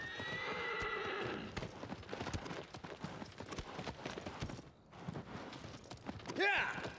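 Horse hooves clip-clop steadily at a gallop through a tunnel in the video game Shadow of the Colossus, loud and continuous, with a clear neigh near the end and someone talking over the hoofbeats.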